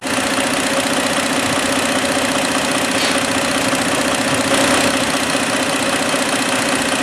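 Hyundai Santa Fe engine idling with a check engine light on, a loud, steady, close mechanical hum and rattle that holds unchanged throughout with no voices.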